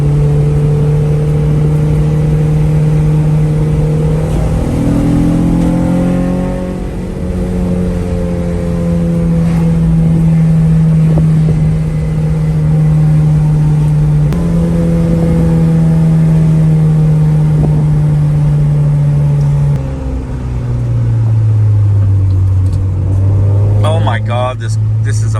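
Acura Integra DA9 with an HKS/Revel exhaust and coilover suspension, its engine droning and rising through gears as it drives, pitch climbing and dropping with shifts, with someone talking over the engine.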